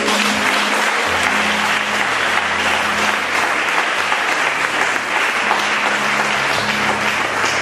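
A church congregation breaks into sustained, dense applause that fills the room, loud and steady throughout with a few cheers mixed in.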